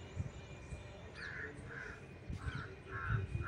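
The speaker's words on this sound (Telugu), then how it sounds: "కాకుల అరుపులు" Crows caw outdoors in a series of about five harsh, evenly spaced calls at moderate distance over low background rumble, with no voices.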